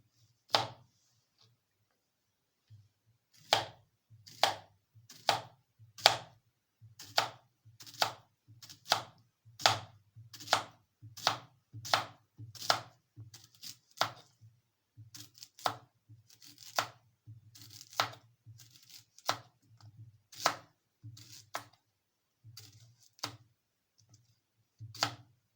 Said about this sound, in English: Slice the cucumber.